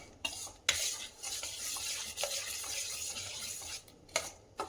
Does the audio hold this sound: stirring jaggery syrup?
yes